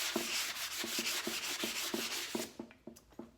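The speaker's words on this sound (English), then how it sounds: "so I'll kind of sand that" Hand sanding painted wood on a small flea market table, with rhythmic back-and-forth rubbing strokes about three per second, close and clear, slowing and thinning toward the end.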